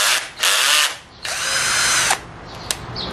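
Cordless power drill, once flood-damaged, switched to its high speed setting and run in two whirring bursts, a short one then a longer, steady, loud whine, followed by a brief click and a fainter tail.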